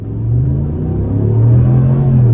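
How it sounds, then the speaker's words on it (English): A Ram Big Horn Night Edition pickup truck in four-wheel-drive auto accelerates hard from a standstill, its engine roaring and building in pitch, loud and close, with no talking. "Four-wheel drive auto, off the line, on the gas."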